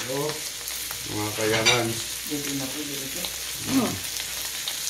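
Scrambled egg fries in a pan for breakfast, a continuous sizzle with stirring scrapes running under a voice talking throughout.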